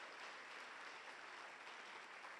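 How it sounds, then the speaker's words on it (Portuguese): Steady applause from a church congregation giving praise to God during an evening service, a dense continuous wash of many hands clapping at an even level throughout, with no talk over it. "Quem pode aplaudir a Deus mais uma vez?"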